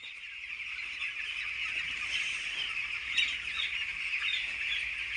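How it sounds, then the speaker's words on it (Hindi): About 2700 poultry chicks in a farm shed keep up a dense, continuous chorus of high peeping that fills the space without pause, with an occasional flutter of wings. "और चलो अब चलते हैं फार्म में। तो ये है हमारे 2700 चिक्स।"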